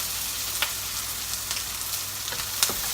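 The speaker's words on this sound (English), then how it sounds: "So we have the garlic going in now." Garlic hitting a hot pan while cooking beef mince with onions, giving a steady close sizzle and crackle with a few sharper pops, no talking.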